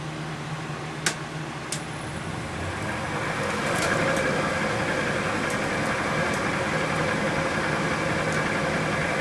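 A wood lathe spins a root ball vase blank at around 400 to 600 RPM, giving off a steady, moderately loud hum and whir with a few sharp ticks near the start.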